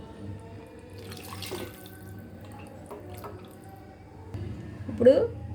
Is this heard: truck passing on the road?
no